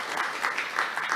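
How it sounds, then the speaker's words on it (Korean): An audience at a Korea–US industrial cooperation conference opening claps in sustained applause, a dense even patter at moderate volume, with no talk over it. "다시 한번 환영사 해주신 상근 부회장님께도 큰 박수 보내주시기 바랍니다."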